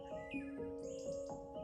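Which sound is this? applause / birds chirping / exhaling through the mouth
birds chirping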